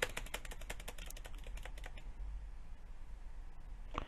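Fast typing on a computer keyboard sounds close but faint, with rapid clicking keystrokes for about two seconds, then quiet room hiss and a few last taps.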